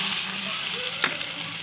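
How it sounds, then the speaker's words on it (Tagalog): Soft sizzling of pork frying in its own fat in a pan, a steady crackle with a brief sharper pop partway through. "piniprito ko lang siya sa kanyang sariling mantika"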